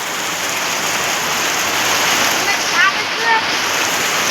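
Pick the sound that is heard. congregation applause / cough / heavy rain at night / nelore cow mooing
heavy rain at night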